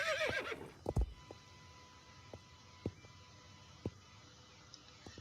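A horse in a stable whinnies loudly at the start, followed by a few sparse hoof thumps and knocks on the ground over a quiet background.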